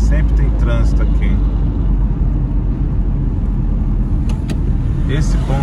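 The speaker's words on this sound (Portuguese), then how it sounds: "Esse ponto aqui sempre tem trânsito, não tem mais horário de pico, infelizmente." Heavy road traffic on the Anhanguera highway in Brazil produces a loud, continuous low rumble of cars and engines heard from inside a moving vehicle, with someone talking over it.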